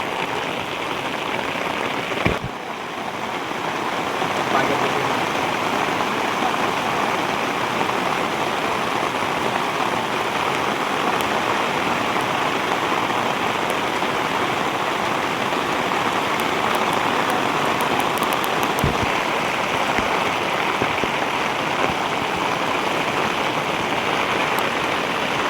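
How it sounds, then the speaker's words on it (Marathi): Heavy rain pouring steadily over flooded farm fields, a dense continuous roar of water with a couple of sharp knocks, loud and unbroken without voices. "पाऊस खूप जोरात चालू आहे"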